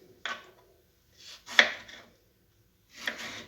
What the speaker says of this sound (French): on va couper des petits morceaux de tomate que l'on va mélanger avec